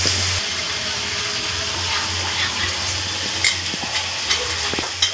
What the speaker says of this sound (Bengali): এখন পায়েস এখন ফুটছে।